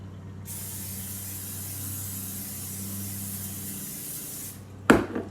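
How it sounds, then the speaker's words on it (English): Cooking spray hisses steadily over cinnamon rolls set in an air fryer for semi-homemade apple cinnamon rolls, one continuous close spray lasting about four seconds over a low appliance hum, followed by a sharp clunk. "And I'm gonna spray them."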